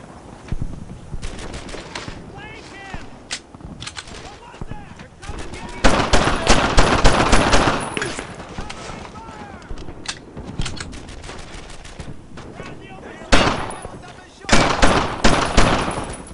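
Sustained machine gun fire in the World War II shooter Brothers in Arms: Earned in Blood, with dense rattling bursts, loudest in heavy volleys midway and near the end, under shouted voices.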